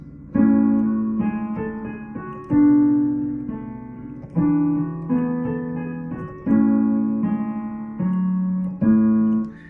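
A piano plays chords with a melody over bass notes, several phrases each struck and left to ring, close and clear, with no voices.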